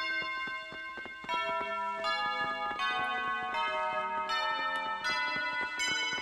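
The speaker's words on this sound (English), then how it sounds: "Those are some loud bells." Loud bright bells chiming repeatedly in Animal Crossing: City Folk, overlapping tones ringing and sustaining one after another with a synthetic, game-like clarity.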